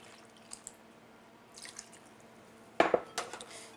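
Water is added slowly to a sourdough starter in a flexible bowl, heard as a few soft, quiet drips and then a sharper splash with light clinks near the end, close by in a quiet kitchen.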